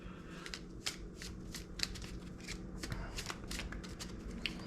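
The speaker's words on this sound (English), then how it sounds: "let's go ahead and start drawing some tarot cards" Tarot cards being shuffled and handled by hand, giving a continuous soft riffling and sliding with small irregular snaps, close and fairly quiet, with no talk.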